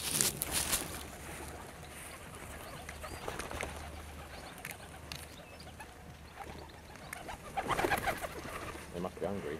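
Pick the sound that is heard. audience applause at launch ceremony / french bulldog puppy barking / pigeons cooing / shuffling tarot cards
pigeons cooing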